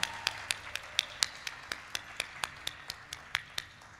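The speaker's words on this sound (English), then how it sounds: "Just give them another hand of applause, please." A small audience at a candidates' forum gives a sparse round of applause, individual claps sounding in a fairly steady rhythm of about four per second, faint and somewhat distant with no talk.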